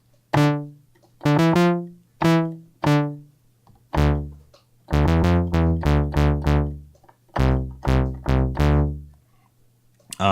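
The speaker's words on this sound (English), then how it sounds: "So this 80s bass, which is the first one in the list here," Punchy 80s bass preset on a JimAudio Poison-202 iPad synthesizer plays a bouncy, retro riff, short plucked tones with bright harmonics, some held and some staccato, alone without talk.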